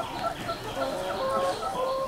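Local chickens on a poultry farm cluck in a steady, overlapping chorus, several birds close by calling in short bursts throughout, with no talk over them.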